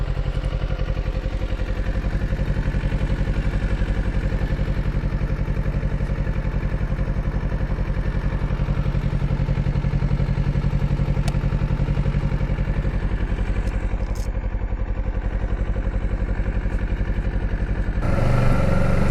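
Kawasaki motorcycle being ridden on a road toward Swindon, giving a steady, close engine drone with wind rush that holds nearly constant for the whole stretch, with a brief rise at the very end.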